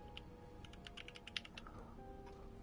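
Quiet, rapid computer keyboard typing, a quick burst of key clicks followed by a few scattered taps, with no one speaking.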